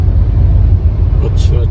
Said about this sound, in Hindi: अब थोड़ा ट्रैफिक कम हुआ है, अभी भी है ट्रैफिक।